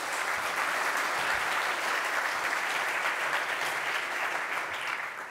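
Steady, dense audience applause at a French-language tech conference talk, welcoming the speakers to the stage; many hands clapping evenly and continuously, fairly close and loud, with no talking over it.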